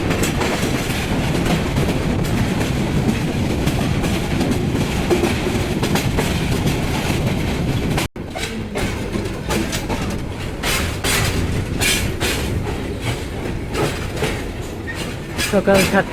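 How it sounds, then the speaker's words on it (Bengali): The Parabat Express intercity train runs through a wide curve on its way to Dhaka, heard from on board as a continuous heavy rumble with rhythmic wheel clatter that roughens and brightens partway through. "বিশাল কার্ভ নিয়ে ছুটে চলেছে আন্তনগর পারাবত এক্সপ্রেস"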